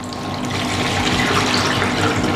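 Water poured into a container at home as the first step of mixing a powdered raw material, a steady, close splashing stream that runs continuously and fairly loudly with no voices.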